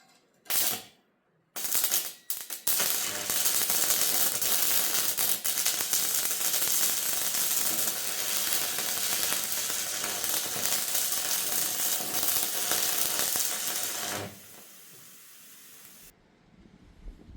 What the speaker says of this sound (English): Okay, so stick weld. It's got 130 amps.